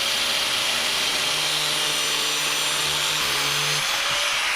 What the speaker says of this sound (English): let's go ahead and bust out the grinder and cut that guy